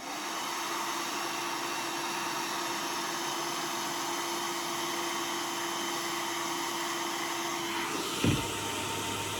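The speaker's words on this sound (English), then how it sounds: "Put the brush at the back of the hair, okay, right at the root, and then blow it upwards and backwards." A hair dryer blows steadily while hair is brushed up from the root, a loud even whir with a constant hum, cutting off abruptly near the end with a brief clunk.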